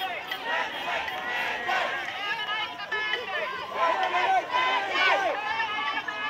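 A large crowd of protesters heard from a hill: a dense, continuous roar of many voices with shouts and chanting rising and falling, moderately loud and spread out at a distance.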